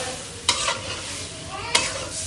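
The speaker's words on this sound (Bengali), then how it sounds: "শিম একটু কম হয়েছে বলে আমি আর একটু শিম দিচ্ছি।" Flat country beans stirred into spices frying in oil for a coral fish and potato curry: a steady soft sizzle broken by two sharp scraping stirs of a spoon in the pan.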